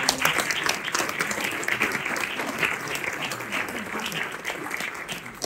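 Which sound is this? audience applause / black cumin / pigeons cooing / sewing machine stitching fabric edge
audience applause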